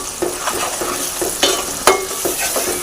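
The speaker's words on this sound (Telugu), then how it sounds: "ఇవి కొంచెం మంచిగా ఇట్లా వేపుకోవాలి" Chopped capsicum frying in oil in a pan while being stirred, a loud steady sizzle broken by several sharper scraping knocks of the spoon, close and without talk.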